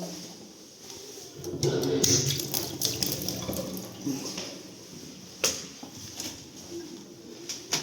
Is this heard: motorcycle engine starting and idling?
no